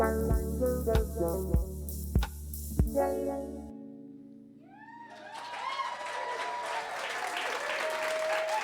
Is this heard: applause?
yes